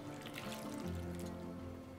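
Half a glass of water poured over green beans in a Lékué microwave steamer case, a continuous trickling splash lasting throughout, soft and close with no talk.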